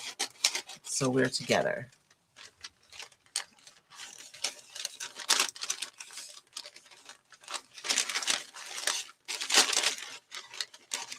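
Scissors cut down a large sheet of paper for a mixed media craft project, a series of crisp snips and rustles in bursts, close by, with someone talking between and over them.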